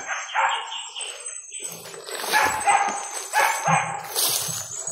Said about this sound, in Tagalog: kahol ng mga aso na naririnig natin